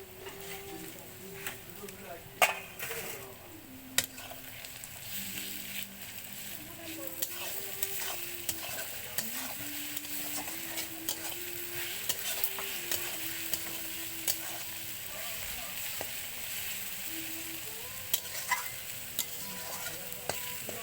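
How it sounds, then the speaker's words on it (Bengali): Garlic and onion fry in a pan with a continuous sizzle, while a spatula stirs and scrapes close by in repeated strokes, with sharp knocks against the pan now and then. "রসুনের সঙ্গে পেঁয়াজটা ভাজা হবে।"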